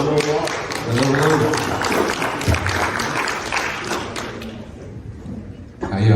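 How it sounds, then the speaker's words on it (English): An audience at a financial talk breaks into steady applause for a speaker taking the stage, a dense continuous wash of clapping that thins out near the end before a voice returns. "Round of applause."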